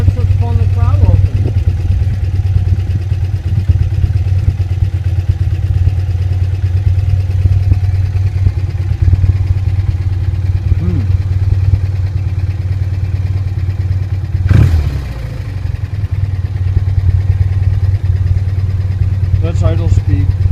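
BMW airhead motorcycle engine idling steadily on a workbench at a club tech day, a low continuous rumble throughout with a brief clatter midway and people talking over it.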